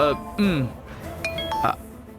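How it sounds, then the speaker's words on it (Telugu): A phone signals an incoming call with a few short electronic tones in the middle of the stretch. People talk before and after the tones. "మీ ముందే అప్పుడే మూడోసారి కాల్ చేస్తున్నారు"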